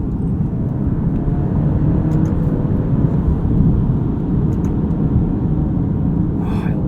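A 2023 Alfa Romeo Giulia Estrema with a 280-horsepower engine and 8-speed transmission pulling hard, its loud, steady low rumble and whir filling the cabin with no voices over it.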